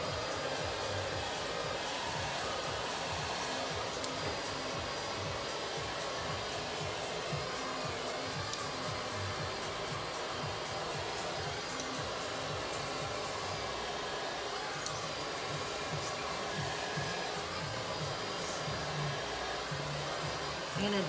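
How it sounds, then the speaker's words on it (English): A hair dryer blows with a constant, moderately quiet whooshing hum that runs on without a break. "So my blow dryer's right underneath."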